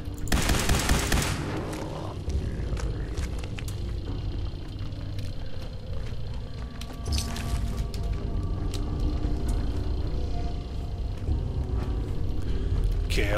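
Rapid gunfire from the Two-Shot weapon in Fallout 4: Far Harbor, a loud opening burst followed by sustained booming reports and rumbling action sounds, with no talking.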